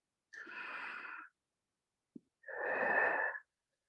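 Two long, soft breathy exhalations during a Pilates exercise, a short pause between them and a tiny click in the gap, close and quiet with no talking.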